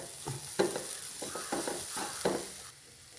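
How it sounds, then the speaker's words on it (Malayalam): Sugar stirred and roasted in a pan over a low flame, heard as a few soft scraping strokes of a spoon against the pan over a faint steady sizzle, close by and quiet, with no talking. "ഒന്നും കൂടി വറുത്തിട്ട് എടുക്കുക"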